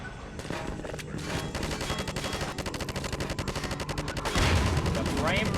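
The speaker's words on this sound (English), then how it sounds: "Maybe we'll just use the turret." Rapid bursts of turret gunfire in Half-Life 2 on the original Xbox, a dense continuous rattle running the whole stretch and growing louder near the end, with game effects mixed in.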